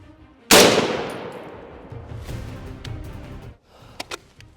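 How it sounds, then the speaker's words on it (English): A single sharp, loud shot from an HK MR762A1 rifle fitted with an EoTech VUDU 1x6 scope on a LaRue SPR mount, fired outdoors at a cold range and followed by a long rolling echo that fades away. "Let's get to the range and shoot this thing."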